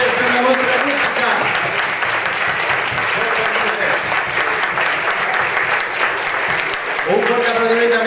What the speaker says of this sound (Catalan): Un fort aplaudiment per aquests nens i nenes que ho han fet també